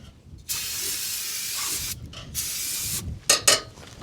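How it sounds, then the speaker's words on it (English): Gun cleaner sprayed out of a Gunwerks rifle into a trash can: a long, loud aerosol hiss in two main bursts, then two short, sharp spurts near the end, with no talking. "I'm just going to spray it into this trash can."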